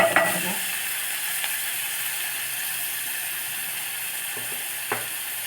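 Onions and tomatoes sautéing in oil for tomato rice, a soft continuous sizzle with a few brief spoon clinks, close by and fairly even, with no voices.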